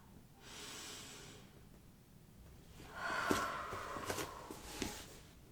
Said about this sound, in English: Take another deep breath in and out